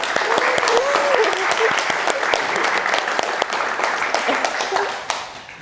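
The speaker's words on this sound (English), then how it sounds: "A warm applause to Luc Downing and Marcel Vogel." Sustained applause from a meetup audience welcoming two speakers, dense and steady for about five seconds, then thinning at the end, with some voices in the room underneath.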